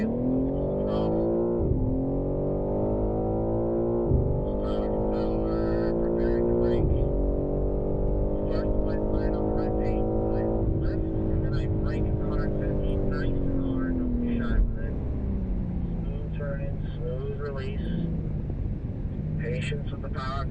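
A BMW M3 driven at full throttle during a track day at Circuit of the Americas, its engine loud and close, rising in pitch through several upshifts with brief dips between gears.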